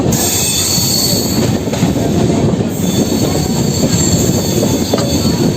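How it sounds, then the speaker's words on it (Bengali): Dhauli Express train pulling into Bhubaneswar station, a loud continuous rumble of wheels on rail with high metallic squealing running across the whole stretch, no voices. "আমাদের ট্রেন ঢুকছে দেখতে পাচ্ছ"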